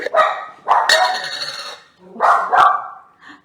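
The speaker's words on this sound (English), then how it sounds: "Sorry about my dog." A dog gives several loud, close, sharp barks in quick succession in a home kitchen during a live cooking session, with a short pause before the final yelps.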